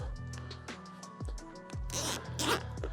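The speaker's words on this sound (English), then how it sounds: "So all you're going to do is obviously put that around the bag and zip it up." A reusable zip clip is zipped shut around a bag of fishing bait in a series of quick, close rasping pulls, with a couple of louder crinkling rustles of the bag toward the end.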